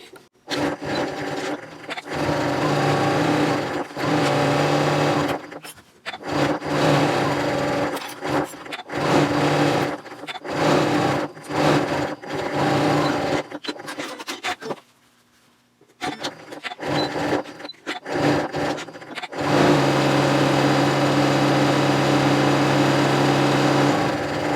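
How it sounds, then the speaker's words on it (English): A sewing machine runs in bursts while top stitching the handles of a reversible shopping tote, a dense whirring hum that stops and starts repeatedly, with one short pause and then a final long, steady run. "I'm going to sew down the length of both sides of the handles now"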